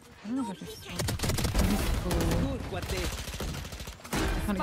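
Rapid bursts of gunfire from a competitive team shooter video game, sounding close and loud, with several voices talking excitedly over the shots.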